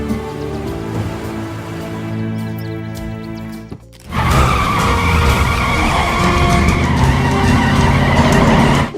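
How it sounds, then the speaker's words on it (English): A 1969 Dodge Charger engine hums with a steady revving tone, then cuts out briefly before a louder roar returns with screeching tires. "The Rams' engine sound was actually dubbed from a 1969 Charger."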